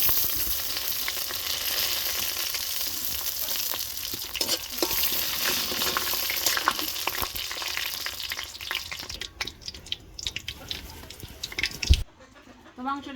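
Whole dried chilies and bay leaves frying in oil, a steady dense sizzle with crackling pops throughout, a few stirring scrapes, then the crackle quiets near the end.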